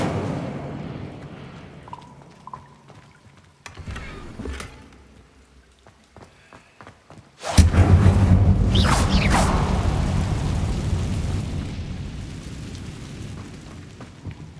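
Hogwarts Legacy's Incendio fire spell bursts suddenly after quiet ambience, a loud whooshing crackle of flame that swells and then roars steadily, slowly fading toward the end, with no voices.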